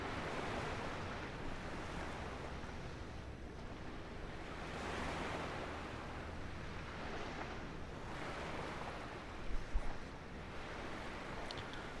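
Rhythmic ocean waves surge and fade on the Corfu coastline in Microsoft Flight Simulator, each swell building and washing out over a few seconds, with a brief low thump late on and no voices.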